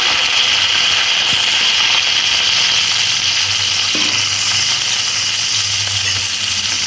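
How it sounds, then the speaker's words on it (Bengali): Chopped chilli and red capsicum fry in white oil in a wok, giving a continuous, dense hiss of sizzling with faint stirring under it, loud and steady throughout. "কড়ার মধ্যে সাদা তেল দিয়ে দিয়েছি এবার কয়েকটা লঙ্কা কুচি দিয়ে দেব তার সাথে সাথে দেবো লাল ক্যাপসিকাম"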